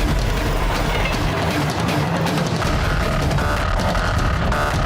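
An animated cartoon train from Motu Patlu runs along the tracks, giving a loud, continuous rumbling clatter with a throbbing rhythm that lasts the whole time.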